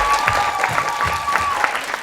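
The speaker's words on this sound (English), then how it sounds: "so it's a round of applause for you." A festival audience applauding performers, a dense steady patter of many hands clapping at once, fairly loud and continuous with a faint tone running underneath.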